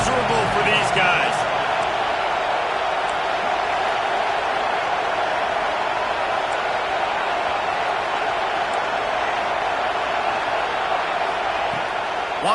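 Steady roaring stadium crowd at an LSU versus Alabama college football game, a dense continuous wall of cheering and noise holding at the same level throughout.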